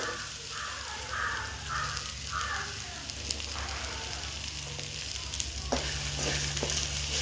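Drumstick leaves with coconut and tamarind sauté in a pan, giving a steady, close sizzle broken by stirring scrapes. A low background hum runs underneath, and faint bird calls come early on.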